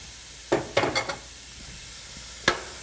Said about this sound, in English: saute that just a little bit until we sweat the onions a little bit